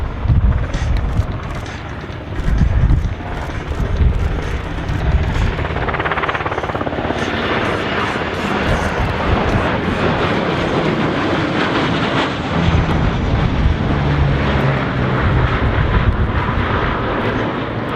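Loud, continuous roar of aircraft passing overhead at an airshow, with a throbbing rotor-like pulse and a broad engine rumble that stays strong throughout.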